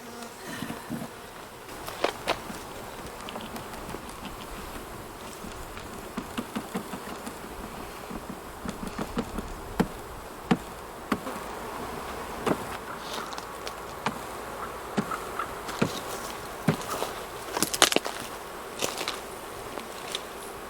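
Honeybees from packages being transferred into nucs drone in a continuous buzzing hum, with scattered sharper taps and knocks over the steady swarm sound.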